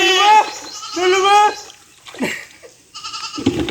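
Goats bleating close by in a run of wavering, nasal calls, two long cries followed by shorter ones, with a brief rustle and some low background noise between them.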